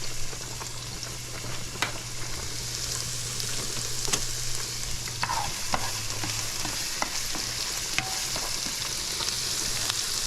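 Onions and a pepper sauté on medium heat in a pan for lobster and shrimp curry, a steady close sizzle with occasional scrapes and taps of a utensil stirring throughout.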